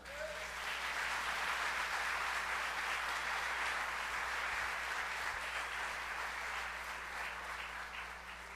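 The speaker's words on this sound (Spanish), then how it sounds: "Aplaudo al Señor" Inside a church on a Sunday service, the congregation applauds in a sustained, even wash of clapping, faint and distant, with a low steady hum beneath.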